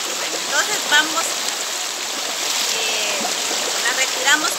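Running water rinses a tomato face mask from the skin, a steady close splashing flow that continues throughout, with faint irregular splatters.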